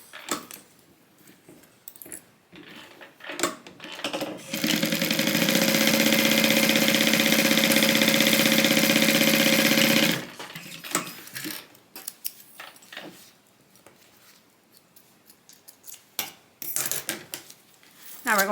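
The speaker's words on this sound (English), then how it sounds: "And then we're going to sew this with a 3/8 inch seam allowance." A sewing machine sews tote bag pieces at a three-eighths-inch seam in one steady, loud run of about five seconds, with quieter handling noises and clicks before and after.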